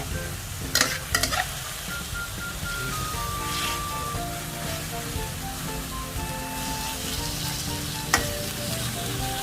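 Eggplant with basil stir-fried in a pan, a steady loud sizzle with scraping stir strokes throughout and a few sharp utensil clanks.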